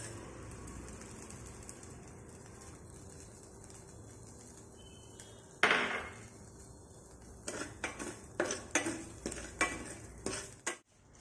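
Spices and salt dry roasting in a pan for garam masala, quiet at first, then a sharp clang and a run of rhythmic stirring scrapes and rattles growing louder toward the end.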